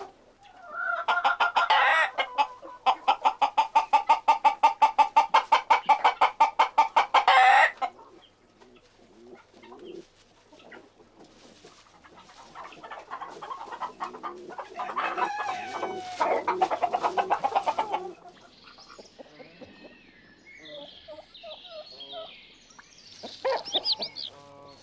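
Farmyard rooster and hens, with a rapid run of loud repeated clucks, then quieter scattered clucking and calls close by.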